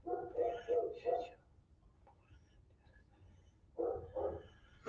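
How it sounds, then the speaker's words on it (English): A dog barks in short bursts of several yaps, then pauses and barks a couple more times, moderately close. "Like that dog in the background barking."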